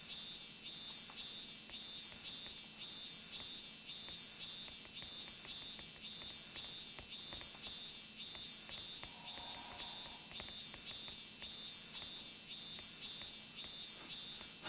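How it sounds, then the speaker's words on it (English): Cicadas drone without a break in the Disaster Report video game, a shrill, pulsing insect buzz that loops every few seconds, steady and loud, with no one talking. "They really needed to have recorded more than, like, this 3-second loop of cicada noises"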